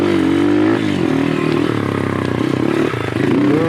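Dirt bike engine revving on a muddy motocross track, loud and close with rising and falling pitch and some clattering, no talk over it.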